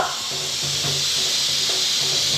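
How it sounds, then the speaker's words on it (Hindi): Steam hisses continuously and loudly from a pressure cooker in a home kitchen, a steady broadband rush over the whole stretch with faint low tones underneath. "ये कुकर बंद कर दो"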